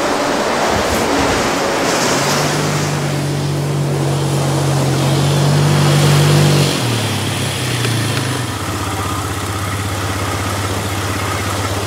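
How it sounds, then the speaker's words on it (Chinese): Sea waves wash steadily along a shore as a continuous broad hiss, with a low engine-like drone running beneath most of it. "三个小时的海浪声"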